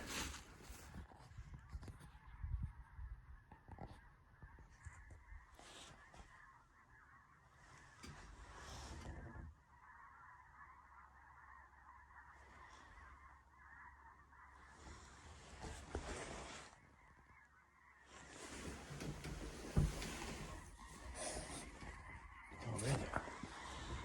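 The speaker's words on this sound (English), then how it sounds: "I can hear a bajillion geese," Many geese honk continuously at a distance on a Manitoba morning, a dense overlapping chorus of calls with louder bursts rising and falling, outdoors with no talking.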